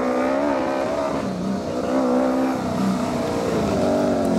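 A Formula SAE race car drives past during a testing outreach event, its engine droning loudly and steadily with rising and falling revs throughout, no voices over it.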